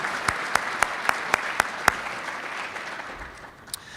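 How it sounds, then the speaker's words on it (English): Applause for Farm Bureau volunteers at a Special Olympics Virginia 2014 awards celebration, with several loud, evenly spaced claps close by over a softer crowd wash that thins toward the end. "Let's give all of our Farm Bureau folks a nice round of applause."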